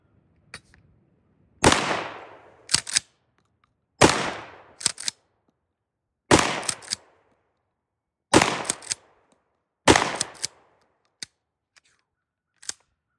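A Stevens 320 Security pump-action shotgun with 5+1 capacity is fired five times at a target range. Each loud, sharp blast is followed by quick clacks as the pump is racked, with pauses of about two seconds between shots.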